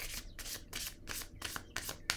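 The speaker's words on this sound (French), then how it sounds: "Je vais piger une carte." Playing cards handled from a deck, heard as a run of about seven quick papery swishes in a steady rhythm, close and fairly quiet, with no speech.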